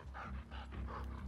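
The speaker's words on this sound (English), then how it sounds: "There's a dog." A dog pants in The Last of Us Part II, quick rhythmic breaths repeating steadily and close by over a low game ambience.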